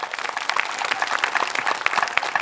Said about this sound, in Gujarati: તમામ પોતાના માટે એકવાર જોરદાર તાળીઓનો ગડગડાટ થઈ જાય